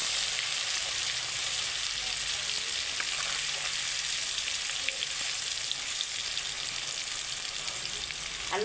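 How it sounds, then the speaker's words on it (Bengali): Potatoes sizzle steadily in hot oil in a home kitchen for chicken curry, a dense continuous hiss with small crackles, close and even throughout, with no talking. "এবার আমি আলুগুলো দিয়ে দিচ্ছি।"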